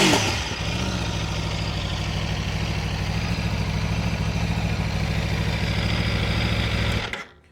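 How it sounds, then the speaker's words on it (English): A 1000cc V4 motorcycle with stock exhaust and Öhlins suspension runs close and loud, a steady throbbing idle that rises slightly as the engine is revved, then cuts off abruptly at the end. "That does not sound bad for a stock exhaust."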